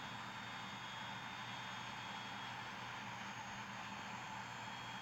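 Steady, faint drone of a Cessna 208 turboprop engine with the throttle cut back in the Infinite Flight game, an even hum with no variation and no voices.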